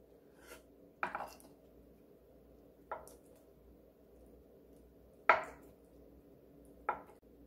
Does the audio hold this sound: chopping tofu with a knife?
yes